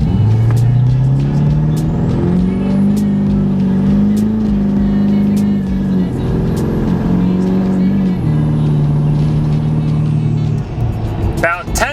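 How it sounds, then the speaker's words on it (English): A big-turbo Duramax diesel pickup is driven at full throttle while towing, with a loud, steady engine drone rising in pitch through the pull and cabin noise throughout, and a voice speaking over it. "So I'm gonna mash the throttle here and we'll see how it does."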